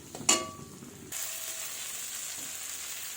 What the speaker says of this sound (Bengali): মশলাটা ভাজা হয়ে গেছে, তেল ছেড়ে দিয়েছে।